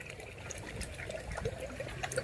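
Water flows along a small irrigation channel in a village cumin field with a faint, steady trickle and gurgle, quiet and fairly close, ending in a slightly louder splash.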